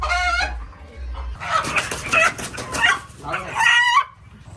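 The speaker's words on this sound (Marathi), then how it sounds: "कोंबडा सुटला." A rooster on the loose at a village fair in Murbad, crowing loudly and clucking close by, with a dog barking and a busy crowd around it.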